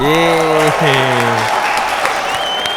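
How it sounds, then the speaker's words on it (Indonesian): A talk show studio audience applauds a guest, the clapping running under a loud voice at first and then continuing more quietly on its own. "Tepuk tangan untuk Angga Anggo"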